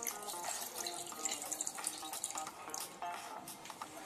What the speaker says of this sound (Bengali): এরপর ডাবের জলে মিশ্রিত করা মশলাগুলোই ডাবের মধ্যে ঢেলে দিচ্ছি মাছের উপরে।